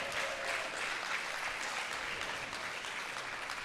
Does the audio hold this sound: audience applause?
yes